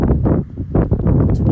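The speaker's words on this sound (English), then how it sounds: "It's windy out here, so excuse the audio." Strong wind buffets a microphone outdoors, a loud, continuous low rumble that swells and dips in gusts across the whole moment, with no speech.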